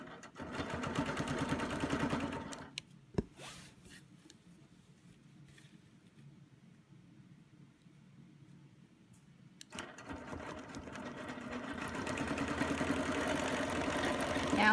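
Sewing machine stitching a circle-template Baptist fan design on a quilt, running in a steady rapid patter, stopping for several quiet seconds, then starting up again and continuing.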